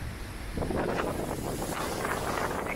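Wind buffets the microphone aboard a river boat on the Thames, a loud continuous roar with gusty low rumbling and a broad hiss.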